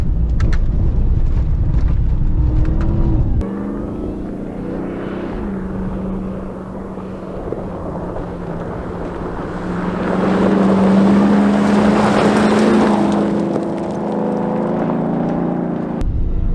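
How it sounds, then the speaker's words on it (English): Ram TRX pickup truck driving off-road in a Baja-style comparison, a steady engine drone with wind buffeting that swells louder near the middle, with no talking. "But we still have amazing sounds coming from the TRX."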